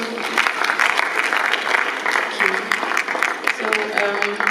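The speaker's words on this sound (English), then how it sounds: "Let's give him a round of applause." An audience claps steadily and densely for several seconds at a conference plenary session, loud and close, with a faint voice underneath.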